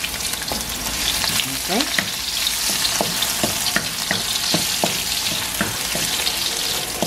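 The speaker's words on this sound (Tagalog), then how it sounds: "Ginigisa muna natin yung spices" Garlic and ginger sauté in a hot pan for a Filipino stingray dish cooked with coconut milk, giving steady, close sizzling and frying with repeated scrapes and stirs of a utensil, and a brief spoken word.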